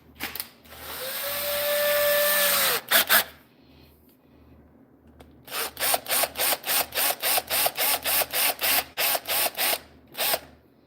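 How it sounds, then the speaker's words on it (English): A power drill whines steadily for a few seconds while enlarging a hole in wood, then stops, followed by a rapid series of short, evenly spaced bursts of drilling. "I'm going to drill that hole a little bit bigger."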